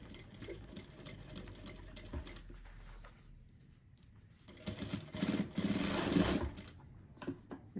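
A sewing machine stitches a backstitch on a fabric bag in short whirring bursts, with a quiet pause between runs and a louder, faster stretch near the end.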